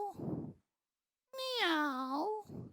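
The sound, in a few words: person imitating a cat meowing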